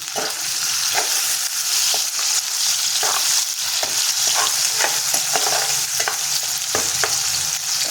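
Onion and tomato sautéing in oil with cumin and mustard seeds over high heat, a continuous close sizzle broken by repeated spoon scrapes and stirring taps in an irregular rhythm.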